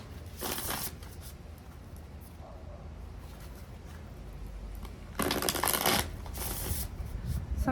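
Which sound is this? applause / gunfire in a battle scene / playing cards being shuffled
playing cards being shuffled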